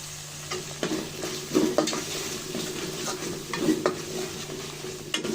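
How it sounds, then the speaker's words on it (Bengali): Chicken roast masala with ground nut paste and dried chilli powder is stir-fried in a pan, with a continuous sizzle under repeated scraping strokes of a spoon against the metal. "বাদামটা দিয়ে ভালো করে কষিয়ে নেব"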